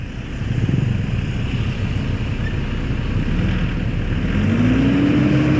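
A vehicle engine running at high RPM while shifting between drive and reverse, a loud steady droning roar with a rising whine near the end, no voices.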